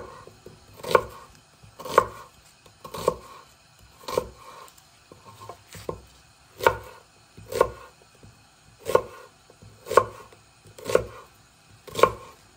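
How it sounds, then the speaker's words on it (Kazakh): A knife slicing a halved onion lengthwise on a cutting board, about a dozen sharp, evenly spaced thuds roughly one per second, close and clear with quiet pauses between cuts. "пиязымызды да 2-ге бөліп, ұзыншақ етіп осылайша турап аламыз"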